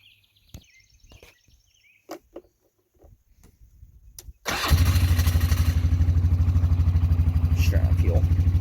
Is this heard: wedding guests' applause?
no